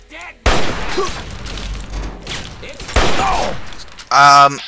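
Rapid bursts of gunfire from Fallout 3 crack out in loud volleys, one near the start, another around the middle and a dense, heavy burst at the end, with someone talking in between.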